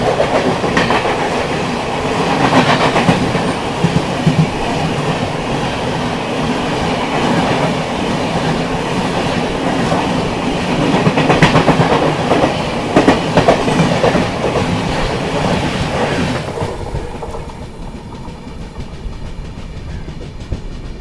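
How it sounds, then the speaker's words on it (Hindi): Mangala Express passing on the double-tracked Konkan Railway line, a close, loud rumble with rhythmic clickety-clack of wheels over rail joints that fades after about seventeen seconds. "डबलिंग हो गई है, आराम से ट्रेन पास हो रही हैं।"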